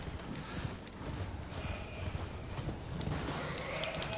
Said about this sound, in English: I wish this horse would go quicker.